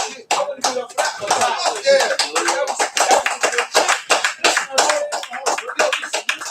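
A few people in an audience clapping, with irregular, sparse claps and slaps close by rather than a full ovation, some voices mixed in.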